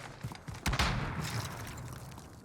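Gunfire in the Warzone video game: a sharp burst of shots around a single loud moment, sitting in busy in-game ambience with no talking.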